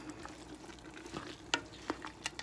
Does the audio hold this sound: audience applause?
no